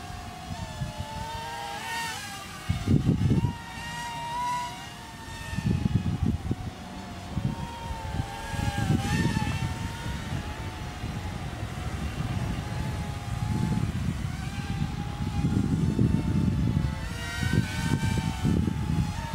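An HX8943 quadcopter drone flies outdoors, its rotors giving a steady whining buzz whose pitch wavers, with repeated louder surges as it speeds up and turns close by.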